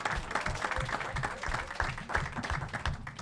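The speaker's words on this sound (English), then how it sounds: "Clap, everyone be excited." An audience at Maryland's 5th Congressional District Democratic candidate forum breaks into lively clapping, a moderately sized crowd whose brisk, uneven claps rise and fall in waves.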